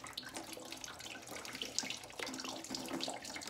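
Water gushes steadily from an open freeze plug hole on a 1952 Ford 8N tractor engine, a continuous splashing rush heard close up with no talking.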